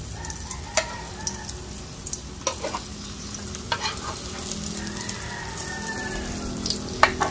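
Scrambled egg frying in a hot pan, a soft steady sizzle broken by irregular scrapes and taps as it is stirred, close by and fairly quiet.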